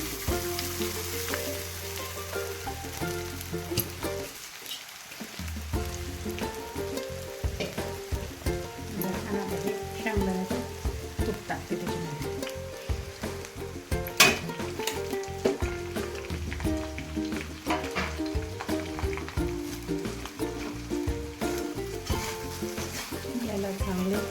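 Sabudana being stirred into fried chillies in a hot pan, with a continuous loud sizzle and rhythmic scraping and stirring that lasts the whole time, briefly pausing once.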